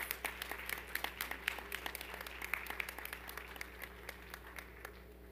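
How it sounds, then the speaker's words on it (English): Applause at a school assembly for Women's History Month: many hands clapping steadily through the room at moderate distance, thinning slightly toward the end. "Can we all please give another round of applause?"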